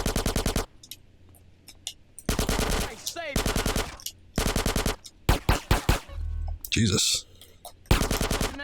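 Gunfire in Grand Theft Auto: San Andreas, with repeated loud bursts of rapid automatic shots from a game weapon, separated by short pauses and a few sharp single cracks; a voice speaks briefly between the bursts.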